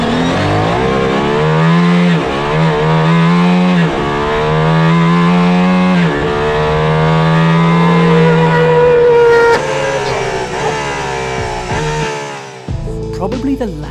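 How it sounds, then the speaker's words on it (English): Aston Martin Valkyrie engine heard from inside the cabin, a loud, high-pitched howl that climbs steadily through the revs while accelerating hard, then drops off abruptly near the end. "the Valkyrie is noisy inside. It's also quite fast."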